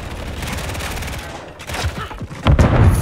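Rapid gunfire crackles in a multiplayer shooter game, with bursts of shots and heavier thumps at the end, loud and close throughout.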